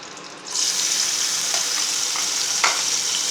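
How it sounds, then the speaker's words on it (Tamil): Small onions dropped into hot oil for a soya chunk curry set off a sudden loud sizzle that holds steady, with a few crackles and a stirring scrape partway through. "ரெண்டையும் லைட்டாக வறுத்துட்டு பேஸ்ட் பண்ணி எடுத்துக்கிடுவோம்."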